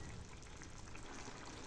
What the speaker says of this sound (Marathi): ह्यात थोडं पाणी ॲड करणार आहे.